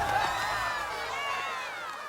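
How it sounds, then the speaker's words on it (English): An animated musical crowd cheers and shouts together as a song ends, a dense, sustained wash of voices and whoops lasting a couple of seconds. "we get the usual crowd cheering noises"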